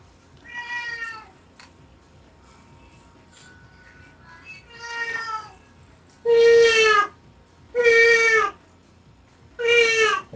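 A person imitates a cat's meow in a run of drawn-out, mewing calls, two softer ones first and then three loud, close ones in steady succession.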